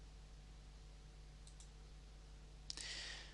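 Faint computer mouse clicks sound in a quiet room as accounting software is operated: a couple of soft clicks, then a sharper click near the end over a steady low hum.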